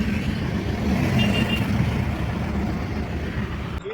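Jammed road traffic with a steady, loud rumble of idling and crawling cars and trucks close by, a continuous engine drone with no voices.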